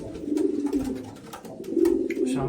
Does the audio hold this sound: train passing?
no